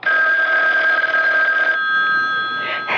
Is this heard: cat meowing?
no